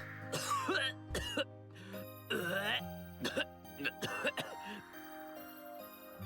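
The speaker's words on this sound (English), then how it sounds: "Sho kept hacking and coughing as though he were choking on his own spit" Sho, a video game character from Iwaihime, hacks and coughs in several harsh bursts with throat-clearing and wet choking sounds between them, loud and close with brief pauses.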